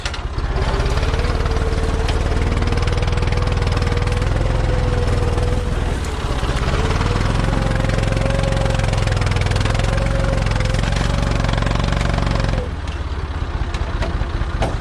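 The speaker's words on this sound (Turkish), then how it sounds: "Ama ağır yani ister istemez traktör zorlanıyor." A Massey Ferguson 240S tractor engine drones loudly and steadily under strain pulling a heavy plough, its pitch wavering slightly as it labours, then easing off near the end.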